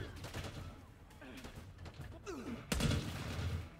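Gunfire in Call of Duty Black Ops 6 crackles through a busy multiplayer-style firefight, a dense burst landing loudest near the end, with voices talking over the shooting.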